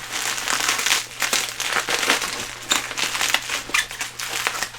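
Packaging on a large comic book box is peeled open, giving a continuous loud crinkling and tearing rustle close up with no pauses.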